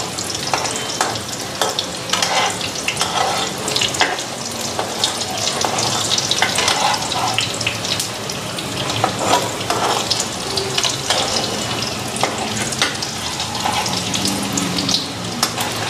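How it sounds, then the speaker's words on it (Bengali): Masoor dal puris deep-fry in oil in a karahi over a high gas flame, a loud continuous bubbling sizzle with occasional clinks and stirring, no voices. "গ্যাসটা বাড়াইয়া দিলাম, তাড়াতাড়ি ভেজে দিব।"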